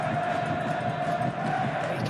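A football crowd at HBF Park during an A-League match between Perth Glory and Macarthur FC, a steady roar of cheering and chanting that stays loud and even throughout, with a sustained pitched tone running over it.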